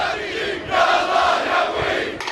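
A rally crowd shouts and cheers together in a sustained, loud roar that swells after a moment and holds steady, with no single voice standing out.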